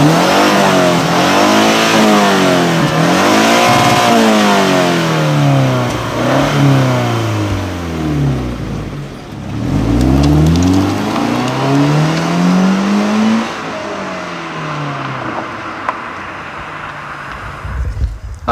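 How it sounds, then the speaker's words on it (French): Subaru car engine revving outdoors, loud repeated throttle blips that rise and fall in pitch, several swelling accelerations close by before settling to a quieter idle, no talking. "on va vous faire écouter le son de dehors et puis on va faire les petites accels."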